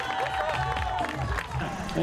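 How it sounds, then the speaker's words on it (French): Spectators at a triathlon finish line clap and cheer in a brief burst of crowd noise, heard under an announcer's voice and a steady tone. "Applaudissements s'il vous plaît."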